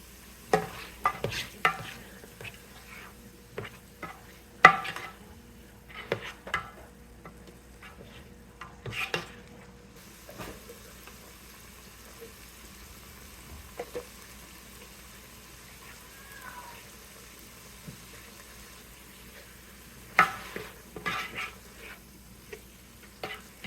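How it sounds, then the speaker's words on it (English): Onions and garlic sautéing in a pan, a quiet sizzle with scattered clinks and scrapes of stirring that fade to near stillness midway, then return near the end. "Now that our onions are sauteed"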